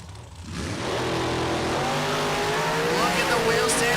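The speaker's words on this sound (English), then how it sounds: "Here's somebody on and off the gas down there, and Sam Tucker going to take the win" Drag racing cars, a white 1932 Bantam altered and a 1968 Camaro, roar loudly and continuously at a strip, engines revving on and off the gas from a distance, with a crowd or announcer voice faintly mixed in.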